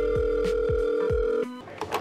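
A telephone call being placed, with a steady electronic ringback tone holding for about a second and a half before cutting off into quiet room noise with a few soft shuffles.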